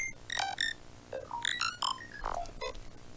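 Pitch-shifted granular synth from Phase Plant with smearing and the correlate setting on: a run of bright, short synthetic notes with buzzy overtones, plus a few smeared blips, played alone at moderate level.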